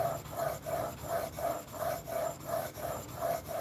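A knife is stroked back and forth on a whetstone in a steady rhythm of about a dozen even, rasping passes, close and clear with no talking.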